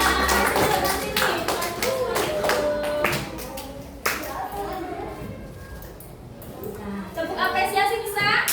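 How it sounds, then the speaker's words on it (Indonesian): Elementary schoolchildren in a classroom clap for a classmate in a burst of rapid, loud applause, then rhythmic group clapping, with a teacher and children talking over it. "beri tepuk tangan untuk temannya"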